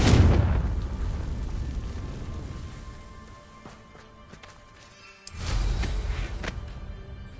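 Two Confringo spell blasts from a magic video game: a loud booming burst that slowly rumbles away, then a second blast a few seconds later, with no talking.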